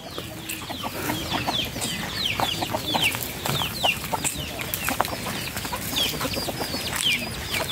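Chickens cluck and chatter continuously amid a busy farmyard, with sharp bird calls scattered throughout and no talking.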